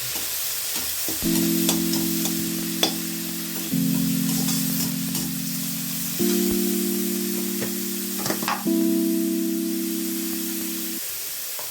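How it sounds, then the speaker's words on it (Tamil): Ground gooseberry (amla) paste frying lightly in a pan for amla rice, a continuous close sizzle and hiss with stirring scrapes and clinks, and a low steady hum underneath. "நெல்லிக்காய் அது பாருங்கள் அதை அது கூட சேர்த்து லைட்டாக ஃப்ரை பண்ணிக்கலாம்"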